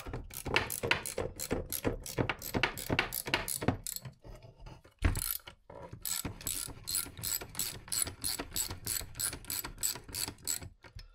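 A ratchet tightens a case splitter on a 2014 Kawasaki KX250F engine, clicking in quick regular runs of pawl ticks, close and crisp, with a short pause and a heavier clunk midway before the clicking resumes.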